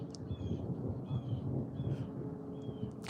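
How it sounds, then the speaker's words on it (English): Low, rumbling thunder rolling steadily through a storm, distant and muffled under wind noise, with faint bird chirps above it. "can you hear the thunder?"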